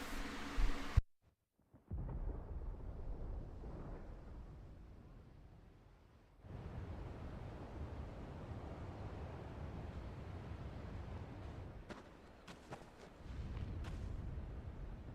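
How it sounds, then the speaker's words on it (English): Thunder in Final Fantasy XVI: a sharp crack, then a long deep rumble that swells and fades, followed by another low rolling roar and scattered crackles toward the end, heavy and resonant with no talking. "Sounds like thunder."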